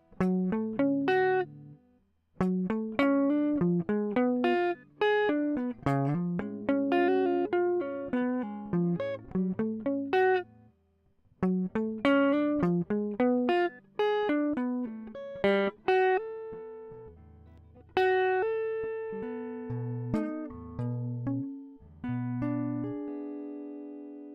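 A distorted electric guitar plays a slow melodic line, picked notes and arpeggios following one another, with brief pauses between phrases.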